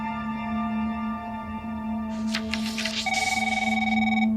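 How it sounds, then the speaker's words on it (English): Telephone bell ringing in a quiet office, a rattling electric ring that starts midway over a steady hum and repeats in a rapid trill, loud and close with no voices. "suddenly his phone rings"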